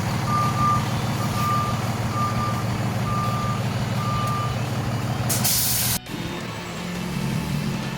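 A truck with air brakes and a reversing beeper drags a wrecked Ford E350 van with its parking brake set; a loud steady engine rumble runs throughout, periodic beeps repeat, and a sharp air-brake hiss near the end.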